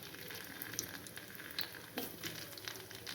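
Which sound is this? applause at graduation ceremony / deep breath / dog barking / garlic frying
garlic frying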